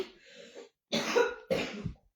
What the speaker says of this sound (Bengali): ছেলেরও কাশি হয়ে গেছে, আমারও একই অবস্থা, জ্বর কাশি